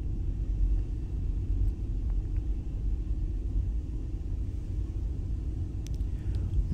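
A car rolls very slowly down a hill near Petit Bot Bay in Guernsey, a low steady rumble of tyres and engine from inside the cabin with no talking.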